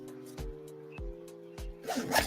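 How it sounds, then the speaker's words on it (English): Zippers on the front main compartment of a backpack pulled in three quick, close strokes, followed by a louder burst of rustling and scraping as the bag is handled. "the front has the main compartment, has the 2 zippers here"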